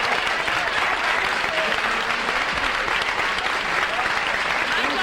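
Studio audience at a 1972 television game show applauding, a full, even wash of clapping from many hands that holds steady without pause.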